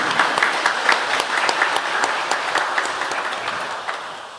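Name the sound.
congregation applauding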